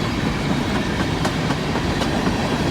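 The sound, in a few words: BNSF empty coal freight train passing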